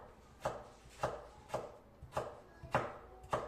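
A knife chops potatoes steadily on a board, six soft thuds at an even pace, close and fairly quiet.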